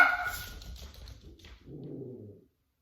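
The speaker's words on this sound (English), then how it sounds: "Dogs are barking." Dogs barking indoors at home, a couple of short loud barks up front followed by a quieter low whine or growl that fades out.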